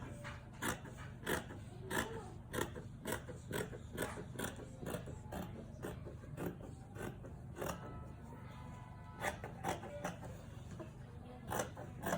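Scissors cutting out a curved satin pocket facing piece: a steady run of sharp, crisp snips repeating roughly every half second, close and fairly quiet, with no voices.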